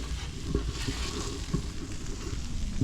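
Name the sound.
sausage frying in a skillet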